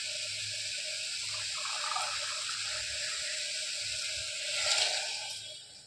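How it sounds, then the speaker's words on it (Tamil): Water poured into a cooking pan of sautéed masala, a soft steady hissing stream that swells slightly near the end, fairly faint and continuous. "நம்ம தண்ணி ஊற்றிக்கணும்"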